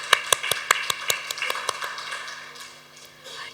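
A small group clapping after a debate contest at an awards night, individual sharp claps standing out at first and then thinning and fading over a steady background hum.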